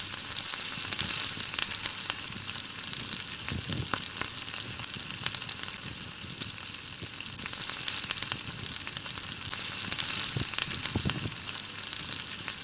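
Chicken pieces frying in oil in a frying pan give a steady, close crackling sizzle that runs throughout, with louder bursts of spitting now and then and no voices.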